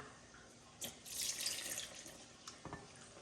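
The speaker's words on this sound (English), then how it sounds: "gonna add some water" Water runs from a tap into a bowl of dumpling dough ingredients in a brief soft stream, with a few light splashes and clinks, faint and close.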